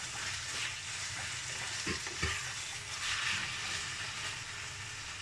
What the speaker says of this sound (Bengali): আর একটু ভাজা ভাজা হবে।